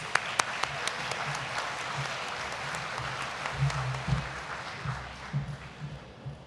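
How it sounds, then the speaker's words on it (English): Audience at a university athletic awards night applauds the Campbellsville University president, a moderate steady clapping with a few sharp claps at the start and low voices and murmurs mixed in. "Let's give him a round of applause"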